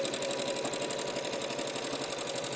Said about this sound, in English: Now I'm just sewing to this corner right here.